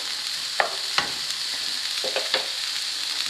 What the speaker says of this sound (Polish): I tutaj nam się smaży, smaży, smaży.